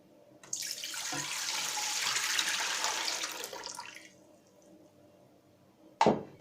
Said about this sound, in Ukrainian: Для маринада я беру